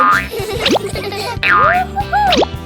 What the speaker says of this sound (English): The ball bounces back and forth between them.